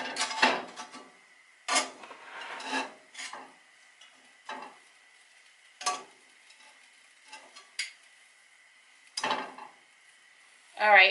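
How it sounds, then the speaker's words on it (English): Pieces of oxtail set one by one into a hot pan for Jamaican-style oxtail, giving a series of sharp clinks and brief sizzling bursts separated by quiet gaps, close and moderately loud. "now that my pan is really hot, I'm going to take the oxtail and I'm going to put it here in the pan"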